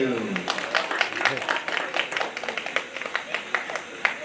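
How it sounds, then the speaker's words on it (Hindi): Audience at a Ramayana recitation festival claps in a loose, fairly quiet rhythm, individual claps distinct, with a voice speaking briefly near the start. "सब कोई ताली बजा दे"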